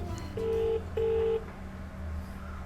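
Two steady DTMF tones from a telephone keypad dialing Domino's pizza, each held about half a second with a short gap between, heard close over a low background hum with no talking.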